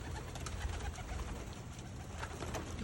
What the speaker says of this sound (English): 67 beautiful white doves.